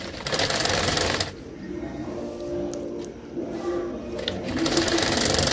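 A sewing machine stitches blouse fabric in a steady, fast mechanical whir. It runs loud at first, eases briefly, then picks up again to full speed.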